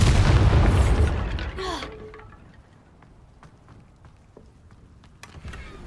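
A Bombarda spell in Hogwarts Legacy sets off one loud, booming blast at the start, which crackles and fades into scattered debris clicks and pops before a small burst near the end.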